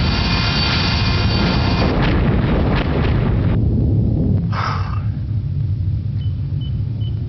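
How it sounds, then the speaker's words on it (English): A torpedo self-destructs underwater in the submarine game Silent Steel, heard as a loud, sustained deep rumble with a brighter burst around the middle, fading into a lower continuous wash. "Torpedo self-destruct, sir."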